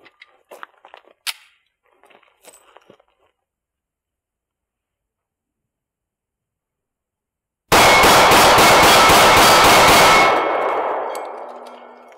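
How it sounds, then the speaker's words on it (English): A Glock Model 27 fires a rapid mag dump of about nine .40 S&W 165-grain rounds in one dense, loud burst lasting a couple of seconds, with a ringing tail after it. Faint handling clicks come first, then a long silence before the shots. "try the same exercise with 9 rounds in our Glock Model 27"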